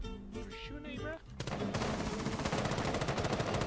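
Rapid gunfire in Rainbow Six Siege erupts after a moment of talking, a dense, loud stream of shots that runs on steadily to the end.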